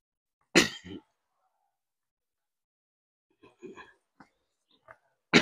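A person coughs sharply twice, at the start and at the end, with softer throat noises and short sounds in between, in an otherwise quiet setting.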